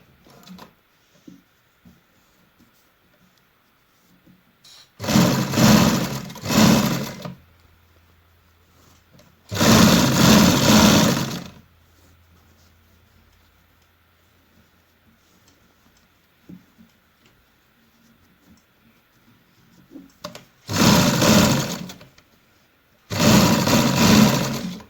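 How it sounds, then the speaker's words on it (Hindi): A sewing machine stitches a kurti placket in four separate bursts of rapid, close mechanical whirring and ticking, each about one to two seconds long, with quiet gaps between them. "अब मैं इसको इसके ऊपर यूँ रखते हुए फिर से एक सिलाई लगा दूँगी।"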